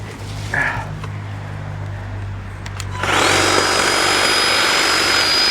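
Power hedge trimmer cutting burning bushes during autumn landscaping, starting abruptly midway as a loud, steady buzzing whine close by, with a quieter low hum beforehand.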